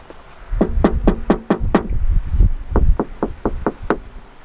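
Knuckles rap on a truck's insulated door panel in two quick runs of six sharp, dull knocks each, close up, with a low rumble under the first run.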